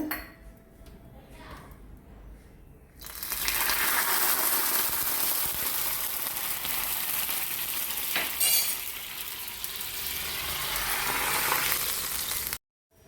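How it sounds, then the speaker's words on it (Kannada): A quiet start gives way to a loud, sustained sizzle as an onion tempering hits hot oil for a chicken coconut curry, crackling steadily for several seconds before stopping abruptly. "ಈಗ ಕೊನೆಯಲ್ಲಿ ಒಂದು ಒಗ್ಗರಣೆ ಕೊಡುವ"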